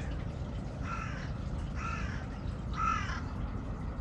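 Three harsh caws from a crow, evenly spaced about a second apart, heard over a steady low rumble of background noise, by the Arakawa river at a warm-water outflow.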